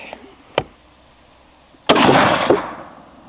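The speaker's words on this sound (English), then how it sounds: "Last shot here, I think." A single sharp rifle shot from a CVA Scout in .450 Bushmaster, loud and close, ringing into a long outdoor decay, preceded by a faint click.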